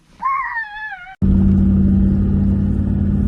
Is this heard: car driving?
yes